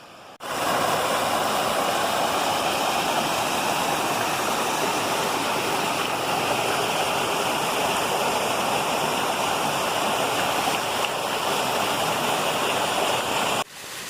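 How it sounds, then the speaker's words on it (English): A small mountain brook on the Huntington Ravine Trail near Mt Washington, New Hampshire, rushes steadily and close by, a dense unbroken wash of water with no voices. "So we've been following this brook."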